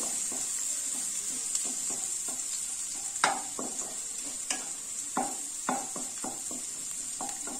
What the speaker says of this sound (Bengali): আদা রসুনটা একটু নেড়ে নিলাম।